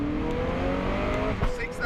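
A Zenvo TSR-S hypercar accelerates hard in third gear in race mode, its engine rising in pitch from inside the cabin. Voices talk over the roar.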